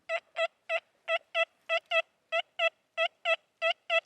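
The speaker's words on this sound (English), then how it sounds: "Now sometimes the machine can give a good signal if it's on the edge of big iron." An XP Deus II metal detector sweeping the edge of a big iron target sounds a rapid series of about fourteen short, clipped tonal beeps, close and clear against silence, with no talking.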